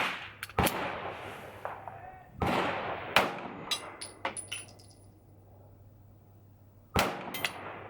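A CZ Shadow 2 pistol firing light 65 grain ammunition at a range, four or five sharp close shots spaced irregularly, with clinks of brass and metallic clatter between them.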